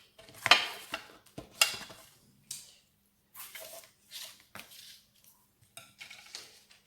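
Material is cut at an angle for a handmade album structure. Short, crisp snips and clicks come at uneven intervals, close and fairly quiet, and nobody talks.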